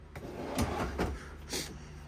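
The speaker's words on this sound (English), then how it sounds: "Additional storage right there with a little pull-out tray or drawer." A pull-out storage drawer in the kitchen of a 2022 Riverstone Reserve 3850RK luxury rear-kitchen RV slides with a couple of soft thuds and a brief rattle, close and moderately quiet.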